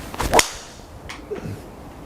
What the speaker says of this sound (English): Whether it's that titanium body with that heavy metal sole plate, steel sole plate, giving that slightly different acoustic sound